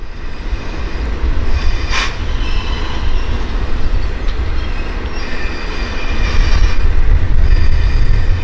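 A Kanto Railway mystery train rolls steadily onto a siding track, with a continuous rumble of wheels and a brief high squeal near the start, then mounting rail noise toward the end, with no voices.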